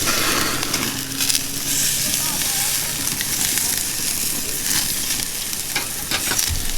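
A tomahawk ribeye steak sizzles loudly on a Camp Chef Woodwind grill, a dense continuous frying hiss with occasional crackles and pops, close up.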